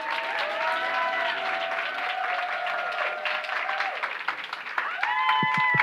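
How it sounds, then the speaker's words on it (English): A theater audience applauds comedian Amanda Seales at her one-woman show with dense, sustained clapping. Tonal, musical sounds ring over the clapping and swell near the end. "Clap it up, clap it up."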